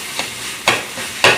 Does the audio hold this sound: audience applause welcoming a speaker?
no